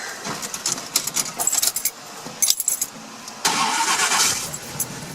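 Keys jangle and rattle close by, then a 1976 Pontiac Trans Am Bandit's engine cranks and fires up, catching into a loud, steady rumble near the end.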